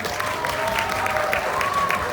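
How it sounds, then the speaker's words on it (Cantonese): Guests at a wedding applaud the newly engaged couple, a steady patter of many hands clapping nearby in a hall, with some voices in the background. "俾掌聲送俾佢哋先"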